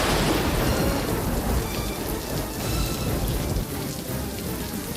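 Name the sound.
thunderstorm with heavy rain and thunder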